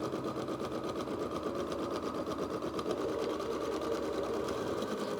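An embroidery machine tacks batting and fabric down to stabilizer in the hoop for an eyeglass case, a rapid, even stitching rattle held steady and close throughout.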